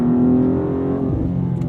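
BMW M2 CS engine held at steady revs with a loud, dense drone, then easing off into overrun, the tone dropping and roughening for the final stretch; no talking.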